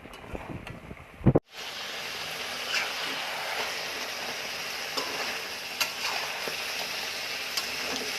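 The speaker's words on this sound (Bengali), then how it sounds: "এই মাছটা অনেকক্ষণ ধরে কষাইতে হয়" Rupchanda pomfret fish sizzles steadily in hot oil in a pan after a brief clatter, making a continuous close frying hiss with occasional small pops.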